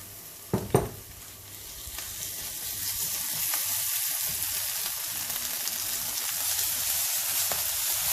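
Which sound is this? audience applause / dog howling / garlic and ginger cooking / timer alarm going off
garlic and ginger cooking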